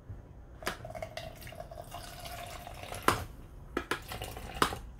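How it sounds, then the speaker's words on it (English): Warm water poured into an empty bowl, a soft continuous trickle with a few sharp splashing clinks against the bowl, fairly quiet and close. "Now, we will put some water in the empty bowl."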